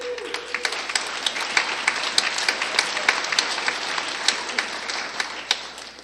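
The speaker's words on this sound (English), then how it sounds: "well, thanks for applauding" An audience claps steadily through a speaking event at a recovery gathering, dense and fairly close, with a brief tone near the start and no speech over it.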